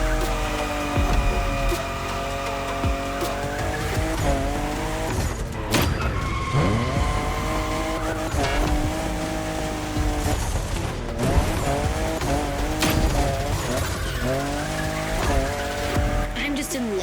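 Tires squeal almost without a break as a car drifts in The Crew Motorfest, the wavering screech running above a loud engine roar that holds steady from start to end.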